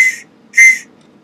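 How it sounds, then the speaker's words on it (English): Small whistle on a souvenir key ring from Half Moon Bay blown twice, two short shrill blasts with a brief gap between them, loud and close. "It's even got a whistle."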